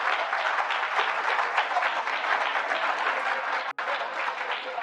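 Steady applause from a television talk show studio audience, dense and continuous with a brief sharp dropout near the end before the clapping resumes.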